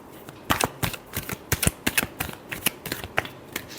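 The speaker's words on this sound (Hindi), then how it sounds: "Last shuffle." Tarot cards shuffled by hand up close, a rapid run of crisp papery snaps and riffles in an uneven rhythm, with short pauses between bursts.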